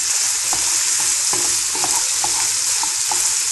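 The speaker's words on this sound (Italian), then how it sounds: "Tempo previsto per rosolare tutta quanta la pancetta all'incirca 1 minuto e mezzo, non di più." Diced pancetta browning in a pan sizzles and crackles steadily at close range, with faint scraping ticks from stirring and no voices.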